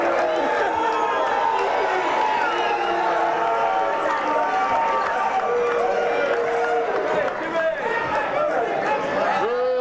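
Pep rally crowd at a Grey Cup week event, a steady wash of chatter, shouts and scattered cheering close by, with voices talking throughout.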